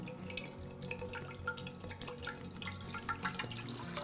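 Water poured for a pickle marinade, running steadily with a dripping, splashing texture for about four seconds, close and moderately loud with no talking.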